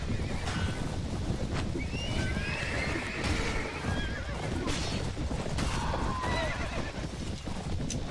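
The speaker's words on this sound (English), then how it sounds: "As they chase down that guy on a horse" Horses in a Mount & Blade Warband battle: loud whinnies and neighs over continuous galloping hoofbeats amid dense battle noise, with occasional talk mixed in.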